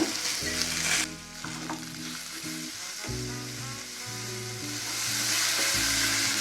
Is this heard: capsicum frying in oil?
yes